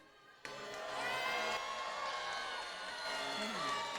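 A crowd at a 2023 Michigan Midland robotics qualifier breaks into sudden loud cheering and shouting for the Red Alliance, a sustained roar of mixed voices filling the large space.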